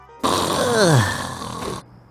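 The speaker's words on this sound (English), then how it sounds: "Daffy's snoring kept him up all night" Cartoon snoring from Daffy Duck in The Looney Tunes Show, a single loud, exaggerated snore with a sliding, wheezy whistle that rises and falls before cutting off abruptly.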